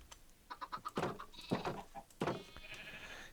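Several sheep in the video game Minecraft bleat one after another in short wavering calls, with a quick run of faint taps leading in, close and clear against a quiet background.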